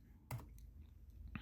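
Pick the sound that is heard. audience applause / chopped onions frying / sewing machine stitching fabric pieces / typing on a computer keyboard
typing on a computer keyboard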